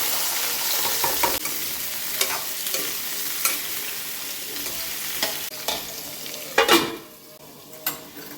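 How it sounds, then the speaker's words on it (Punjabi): Pumpkin pieces frying in oil in a home kitchen pan, with a steady close sizzle broken by repeated scraping stirs and one louder clatter near the end; no one speaks. "ਹੁਣ ਆਪਾਂ ਪੇਠੇ ਨੂੰ ਥੋੜਾ ਜਿਹਾ ਫਰਾਈ ਕਰ ਲਾਂਗੇ"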